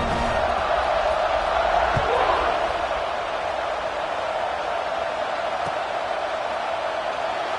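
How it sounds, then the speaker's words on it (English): A stadium crowd at a college football game between UM and LSU keeps up a steady, dense buzz throughout, with no single cheer or roar standing out. "this crowd is buzzing after that last score"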